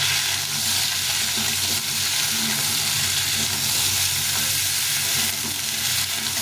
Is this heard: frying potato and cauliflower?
yes